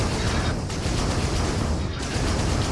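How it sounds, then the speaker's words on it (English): Energy-weapon blasts from a modded spacecraft in a video game fire in a dense, continuous barrage, a loud crackling roar with no pauses and no voices. "Those are my EM weapon blasts."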